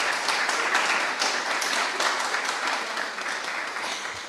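An audience at a government funding announcement for organisations helping homeless veterans in Nova Scotia claps steadily, a dense sustained wash of many hands close by with no talk over it.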